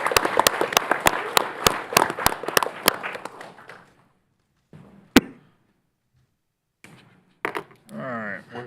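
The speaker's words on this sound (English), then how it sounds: "About a round of applause for all these kids." Applause for children at a county commissioners court meeting, a short burst of scattered claps in a room that dies away into quiet, followed by a few knocks and some talk.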